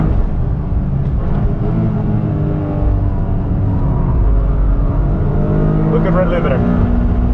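A 2023 Toyota GR Corolla Morizo Edition on a track hot lap, its engine droning loud and steady from inside the cabin while revving to the rev limiter, with a person talking over it.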